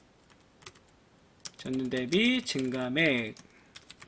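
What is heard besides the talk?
typing on a computer keyboard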